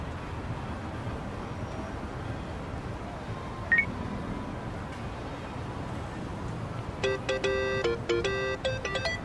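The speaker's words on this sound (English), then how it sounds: "Kasuga, call me on your phone" Phone dialing in the video game Yakuza: Like a Dragon, a rapid series of keypad beeps rising over a steady background hum of ambient noise, after one brief earlier chirp.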